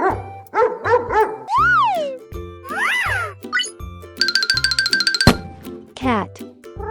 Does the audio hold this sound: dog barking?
yes